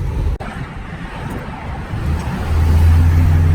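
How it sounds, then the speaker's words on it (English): Loud, constant roadway roar and wind buffeting inside a moving car with the windows down, with a low engine drone building toward the end. "sorry about the noise. I got the windows down."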